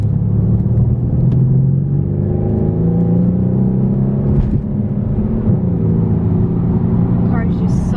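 Mercedes-AMG C63 S coupe from 2017 with a loud, steady engine note rising and shifting smoothly through the gears, heard from inside the car without talk.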